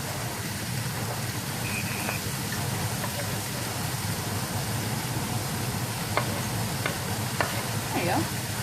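Chorizo burger patties fry in a pan with a steady broadband sizzle throughout, broken by a few faint scrapes and pokes from a utensil near the end; no one speaks.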